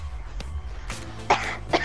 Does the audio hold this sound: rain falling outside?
no